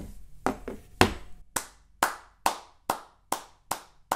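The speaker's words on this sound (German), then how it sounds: "Das hat Applaus verdient." A single person clapping hands slowly, about ten sharp, separate claps in a fairly even rhythm, close and clear against silence, with no voices.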